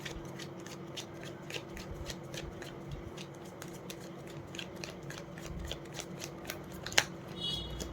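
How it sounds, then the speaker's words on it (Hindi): Tarot cards being shuffled by hand, a faint, close run of soft riffling flicks and slaps against a quiet room hum, with no talk. "एक और शफ़ल कर लूँ।"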